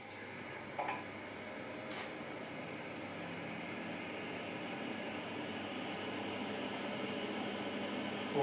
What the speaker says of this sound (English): That's the boiler roaring away that's just come on again